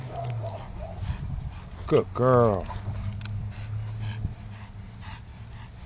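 An old dog pants softly and lets out a short whimpering whine, close to the listener, while a person speaks briefly nearby.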